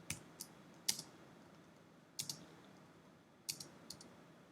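A computer keyboard is tapped while editing in Premiere Pro: a few sparse, sharp key clicks and short double taps, close and quiet, with no talk.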